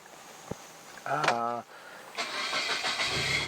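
A Suzuki Jimny engine cranks briefly and catches, settling into a steady running rumble; a short voice-like harmonic burst sounds just before it.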